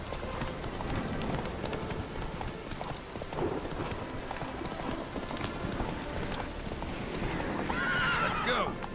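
Horse in The Witcher 3 whinnying and clip-clopping its hooves in a steady run, with game ambience and a louder, shrill neigh near the end; a person talks over it.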